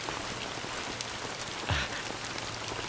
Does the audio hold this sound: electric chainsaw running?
no